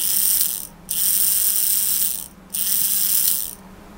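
The motor and small gears of a disassembled Tomy Ben toy robot whir and ratchet up close, running in three bursts separated by short pauses, fairly loud with no talk.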